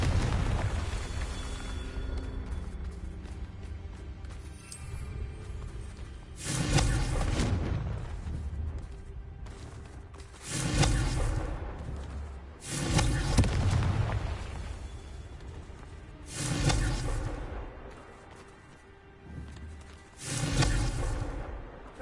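Repeated Confringo blasting-spell explosions in a Hogwarts video game, five or six booming bursts spaced a few seconds apart, each with a sharp onset and rumbling decay over quiet ambience.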